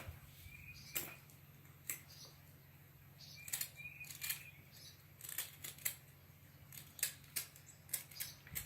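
Scattered sharp snips and clicks of a cane whistle being cut down and trimmed, quiet and close, in irregular bursts over a steady low hum.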